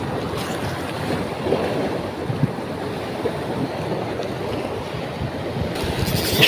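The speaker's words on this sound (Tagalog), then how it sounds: "laki ng mga alon dito mga kapartners." Large ocean waves pound the shore during a fishing session, a loud continuous wash of surf with strong wind buffeting the microphone throughout.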